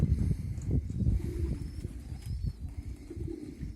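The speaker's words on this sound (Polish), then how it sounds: "kolejne grupy nadciągają gołębi z różnych kierunków" Low, murmuring coos from several racing pigeons overlap steadily with soft scuffling and flutter, close by, with no one talking.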